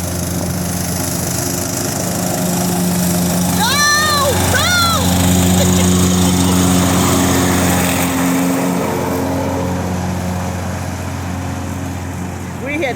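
A riding lawn tractor drones steadily as it mows a yard in circles, its engine hum constant and moderately close, while people talk over it.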